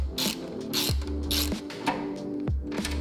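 A ratchet tightens screws on a mid-frame air deflector fitted to a Harley-Davidson Low Rider ST, giving close, crisp clicking strokes in a repeated back-and-forth rhythm with brief pauses between pulls.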